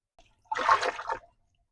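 Water gushes hard from a faucet into a deep sink over pots being washed, one strong burst of just under a second that starts abruptly and then cuts off.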